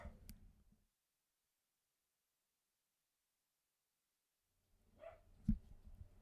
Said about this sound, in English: Someone was at my door, so my dogs have decided to bark.